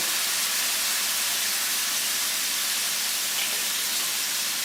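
Tofu sautéing in olive oil with lemon and cumin gives a steady, loud broadband hiss of frying that holds evenly throughout, with no voices.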